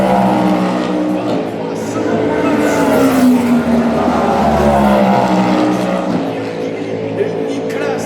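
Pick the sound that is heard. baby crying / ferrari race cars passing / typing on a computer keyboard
ferrari race cars passing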